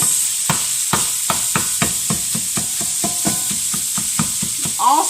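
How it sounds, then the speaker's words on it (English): Sausage browns in a pan with a constant sizzle, while a spatula scrapes and taps it in quick, regular strokes near the microphone. "That sausage is browning up good."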